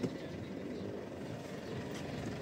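A warm farm engine runs steadily after being started, its low, even rumble idling continuously at moderate distance with no talk over it.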